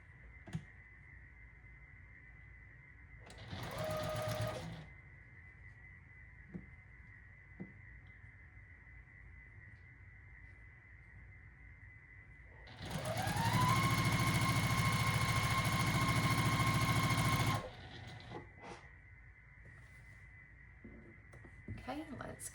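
A finicky sewing machine stitches a quilt block: a short motor burst, then a longer steady run of several seconds, both standing out clearly over a quiet room hum.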